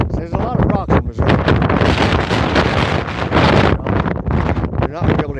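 Strong wind in the Missouri hills buffets the microphone in loud, rough gusts, a continuous roaring rumble that rises and falls throughout.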